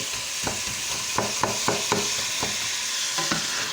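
Minced meat browning in a frying pan for a tomato meat sauce with Aosta ham, a steady close sizzle broken by several sharp scraping stirs of a utensil against the pan.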